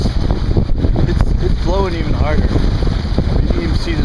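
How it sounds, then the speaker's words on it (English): Strong wind gusting over a lake during high winds, a loud continuous rush and buffeting that never lets up, with a person speaking underneath. "the wind has gotten even worse. It's blowing even harder."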